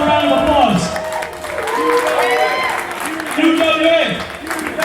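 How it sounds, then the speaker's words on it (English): A wrestling show crowd claps steadily for about five seconds, with loud cheering and shouting voices woven through the applause, swelling near the end. "Give yourself a round of applause"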